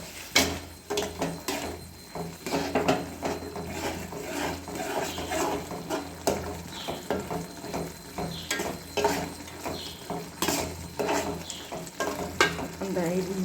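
Food frying in a pan is stirred and mixed, with repeated scraping knocks of a spoon against the pan in an uneven rhythm over a soft, continuous sizzle, close and moderately loud.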